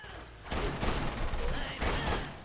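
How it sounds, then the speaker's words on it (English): Handgun gunshots in a video game, heard as three or four loud, close shots at roughly half-second intervals. "It's the handgun."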